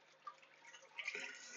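Water drips and trickles faintly from a shaken aquarium filter sponge in a planted tank setup, a short soft patter that grows slightly denser toward the end.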